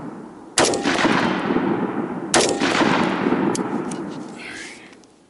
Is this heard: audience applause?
no